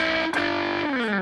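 An electric guitar runs through stacked overdrive pedals in AmpliTube 5, playing sustained distorted chords that shift pitch once midway and again near the end, loud and close with no talking.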